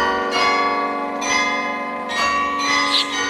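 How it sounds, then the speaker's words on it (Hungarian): Bright carillon bell chimes from a tower clock ring out in a slow sequence of notes, each strike sustaining and overlapping the next, close and clear. "Jól van, most nézzük a harangjátékot."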